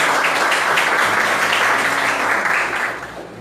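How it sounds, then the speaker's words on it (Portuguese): A church congregation claps together in a steady, dense round of applause that fills the space at close range, then tapers off toward the end. "Vamos dar uma salva de palmas para o nosso Senhor."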